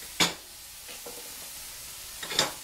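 Mushrooms frying in a pan and being stirred, with a couple of sharp scraping strokes against a faint background sizzle.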